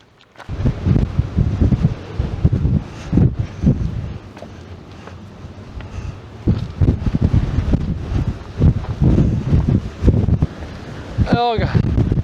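Strong, gusty wind blows across the 2228 m summit of Pločno on Čvrsnica in Bosnia, roaring and buffeting the microphone in uneven surges throughout.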